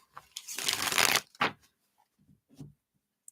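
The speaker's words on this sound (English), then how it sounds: "I feel like I need to shuffle these real quick." Tarot cards shuffled by hand during a live reading, a dense papery riffle lasting about a second, followed by a few softer card slaps and taps, close and alone.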